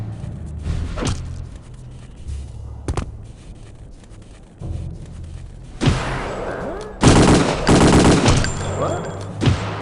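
Tommy gun fire in Return to Castle Wolfenstein, heard as sporadic sharp shots early on, then loud rapid bursts of automatic fire toward the end, with game noise between.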